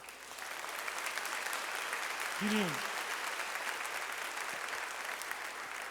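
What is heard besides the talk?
audience applause in church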